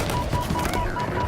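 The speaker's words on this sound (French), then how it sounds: "Alors ça les gars c'est du sniper qui sniper." Gunfire rattles from the Halo Infinite video game in a dense, loud, steady barrage of rapid cracks, presented as sniper rifle shots, with no pauses across the short stretch.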